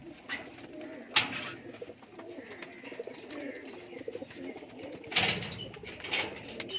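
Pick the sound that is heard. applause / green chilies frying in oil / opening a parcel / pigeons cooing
pigeons cooing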